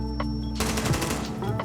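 Gunfire in Rainbow Six Siege on the Chalet map: a quick burst of loud, close automatic shots, rapid sharp cracks in a tight cluster lasting under a second.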